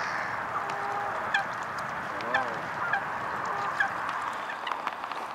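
Canada geese honk repeatedly at a distance in snowy weather, a few scattered calls over a steady outdoor background, with tufted ducks, grebes, coots and black-headed gulls calling faintly.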